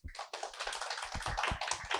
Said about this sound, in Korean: 박수 좀 주십시오